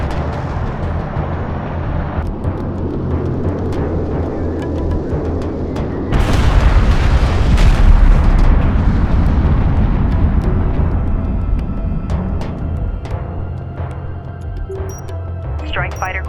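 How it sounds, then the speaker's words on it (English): A cruise missile launch in the game Homeworld: Deserts of Kharak sends a loud rushing roar and heavy rumbling blasts through the middle stretch, surging then fading back to a lower din with scattered sharp hits. "Sakala launching cruise missile."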